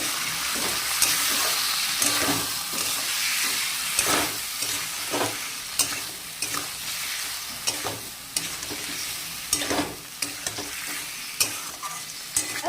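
Salted masala for a catla fish-head muri ghonto being stirred in a pan with oil, a steady close sizzle broken by repeated scraping strokes of the spoon, no voices.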